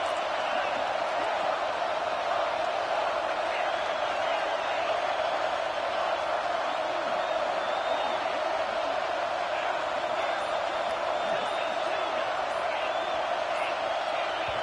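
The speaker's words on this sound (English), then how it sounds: "with this place rocking, the crowd forces a false start" Loud, unbroken roar of a football stadium crowd in a Clemson college football video game, a dense steady wall of noise with indistinct voices blended into it.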